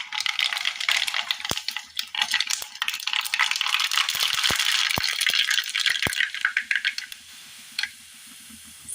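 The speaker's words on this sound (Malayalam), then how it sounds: "ചട്ടിയിൽ എണ്ണ ഒഴിച്ചു കൊടുത്ത് നന്നായി ചൂടായി വരുമ്പോൾ ഇതിലേക്ക് കടുക് ഇട്ട് കൊടുക്കാം." Mustard seeds are dropped into hot oil in a pan for a Kerala curry, and they crackle and pop in a dense, steady rattle with sharp individual snaps. The frying is close and loud, then dies down near the end.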